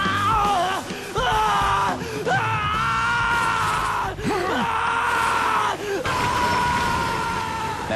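A voice actor dubbing the anime Bleach lets out long, strained screams and yells, loud and close, broken only by brief gasping pauses between drawn-out cries.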